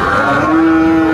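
A single loud, drawn-out moo from an Australian heifer calf, very close and clear, lasting about a second, at a cattle market.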